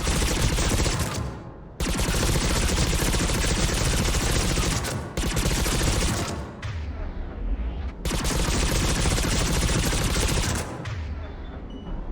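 Sustained, dense gunfire in the video game Mass Effect 3 with heavy automatic bursts, broken by brief pauses near the start and middle, loud and close throughout.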